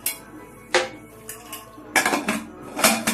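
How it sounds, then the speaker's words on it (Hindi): A metal whistle is pulled off a pressure cooker lid, making several sharp close-up metallic clinks and clatters spaced irregularly, with a small cluster of knocks near the end. "ढक्कन की सीटी निकाल लेंगे।"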